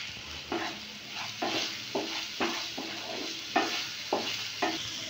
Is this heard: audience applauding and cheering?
no